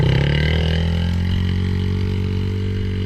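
Kids' motorbike, petrol or electric, pulling away with a steady engine drone that rises slightly in pitch, close and fairly loud, no talking over it.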